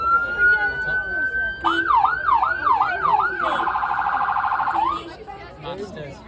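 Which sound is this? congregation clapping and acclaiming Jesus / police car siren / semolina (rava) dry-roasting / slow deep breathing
police car siren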